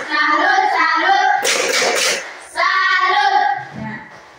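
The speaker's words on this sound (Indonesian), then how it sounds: "Satu kali tepuk salut untuk teman kita Demon." A class claps a quick salute for a classmate, a short burst of clapping between children and a teacher chanting in rhythm.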